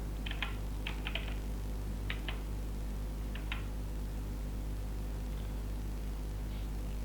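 Someone types a short DNA sequence on a computer keyboard in quick little clusters of keystrokes, close and crisp, separated by pauses over a constant low electrical hum, with no voice.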